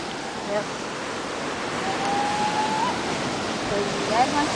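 Steady waves and surf roll at a beach beside a lavender farm, a broad continuous wash of noise with faint tonal whistles drifting over it.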